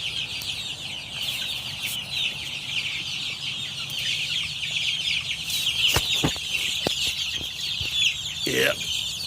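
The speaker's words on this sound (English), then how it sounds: "There's the chicks in the brooder." Many chicks peep in a dense, continuous high chorus inside a brooder house on a pastured chicken farm, some huddled under heat lamps, with occasional clucks and someone talking faintly nearby.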